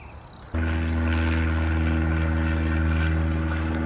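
A pontoon floatplane's propeller engine near a lake, a loud, steady droning hum with strong tonal harmonics that starts suddenly and holds at full level without fading.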